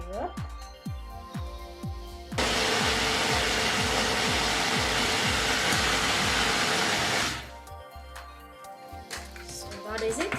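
An electric blender grinds peeled ingredients for jollof rice, a loud, steady whirring roar lasting about five seconds, with a person talking before and after it.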